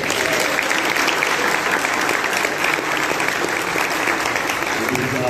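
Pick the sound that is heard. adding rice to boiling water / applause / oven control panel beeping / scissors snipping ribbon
applause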